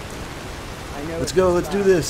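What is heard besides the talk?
rain falling in Skyrim video game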